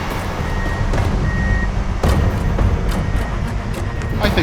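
A flat deck tow truck reverses with a steady series of loud, evenly spaced backup beeps over a rumbling diesel engine and surrounding traffic.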